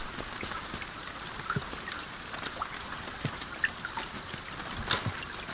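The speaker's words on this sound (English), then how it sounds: "it got dark on us in a hurry and raining" Rain falling at nightfall in the survival video game INCUR, a soft steady patter with scattered drip-like ticks, fairly faint and with no talking.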